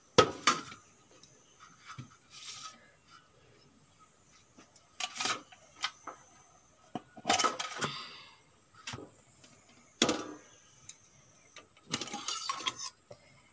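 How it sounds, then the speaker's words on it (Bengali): A metal tiffin box is lifted and opened, giving a series of scattered clinks, taps and scrapes of metal, some sharp and close, over a quiet background without speech. "এখন আমি টিফিন বক্সটা তুলে নেব। এই দেখুন এখন আমি খুলে দেখাবো আপনাদের।"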